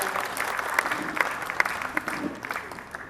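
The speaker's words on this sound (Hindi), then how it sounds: "ज़रा अगर इनके लिए ताली बजा दें हम लोग ज़रा हाथ खोलकर" An audience at a Muslim Rashtriya Manch gathering breaks into steady clapping, a dense patter of many hands that swells briefly and then begins to taper off.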